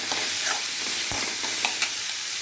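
Onions fry in hot oil over high flame with a pinch of turmeric. A constant bright sizzle is dotted with a few soft stirring taps. No voices are heard.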